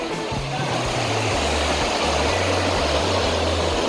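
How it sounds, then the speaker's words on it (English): Port Sydney Falls pours over Canadian Shield rock in a broad, constant rushing roar that holds steady throughout, while a droning motor hums low beneath the water. "it's the waterfall. This is Port Sydney Falls."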